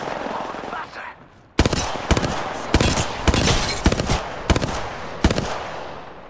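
Gunfire in Apex Legends, with sharp bursts of shots arriving in quick rhythmic clusters after a quieter opening, loud and close in a hectic firefight.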